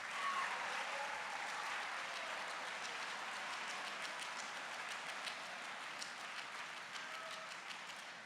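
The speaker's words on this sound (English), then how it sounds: "Can we have another round of applause for Mr. Gutierrez, please?" Audience applause at a state conference general session, a steady wash of clapping from a large crowd that holds at an even level throughout, with no talk over it.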